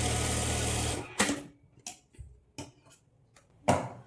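A sewing machine stitches blouse pieces with a quarter-inch seam, heard as a loud steady run for about a second that stops, followed by several short clicks and taps of handling the machine and fabric.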